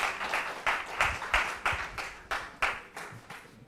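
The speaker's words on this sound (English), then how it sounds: "Give a big round of applause for Sainath." A conference crowd at CityJS New Delhi 2024 gives a round of applause for speaker Sainath: a string of distinct, fairly regular claps at moderate loudness that fade gradually over a few seconds.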